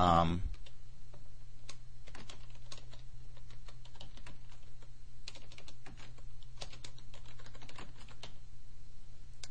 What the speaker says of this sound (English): I could type in any information I want